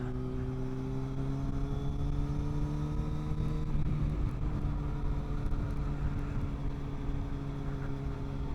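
A motorcycle is ridden on a road toward Kuala Lumpur, Malaysia, in strong dry-season wind. A steady engine drone holds an even pitch under heavy, rumbling wind buffeting, with no talking.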